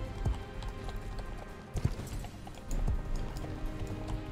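Horse hooves clip-clopping in the online horse-riding game Star Stable Online, a steady rhythmic gait with a few sharper hoof strikes, fairly close and alone with no talk.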